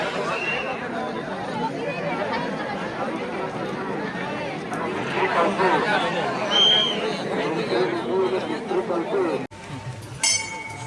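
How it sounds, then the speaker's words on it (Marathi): Dense crowd chatter from pilgrims on the Girnar Parikrama pilgrimage route, a continuous loud hubbub of many overlapping voices with occasional clinks, close around the listener throughout. "गर्दी बघा हे"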